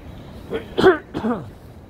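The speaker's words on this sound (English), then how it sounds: "Just clearing my throat" A short throat clearing, two or three gruff rasping bursts close to the mic, fairly loud against a quiet background hum, outdoors on a snowy street in downtown Chicago at Washington and Wabash.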